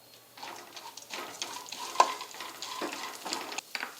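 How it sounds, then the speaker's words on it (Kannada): Chopped cashews and almonds frying in ghee in a pan, a soft steady sizzle under scraping spoon strokes and small clinks, close and fairly quiet. "ಇವೊಂದು ಸ್ವಲ್ಪ ಹುರ್ಕೊಳ್ಳೋಣ್ರಿ ತುಪ್ಪದಾಗೆ"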